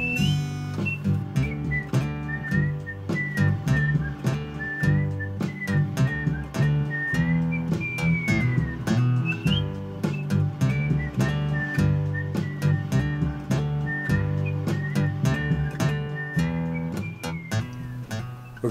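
The outro melody is played on guitar, a continuous run of plucked notes and hammer-ons with a whistled line riding on top, loud and steady throughout.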